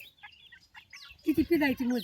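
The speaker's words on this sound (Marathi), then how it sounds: "आमचा कोंबडा आहे काय कोंबड्या किती आहेत" Faint chirps at first, then chickens break into loud, rapid clucking nearby, several calls tumbling over one another.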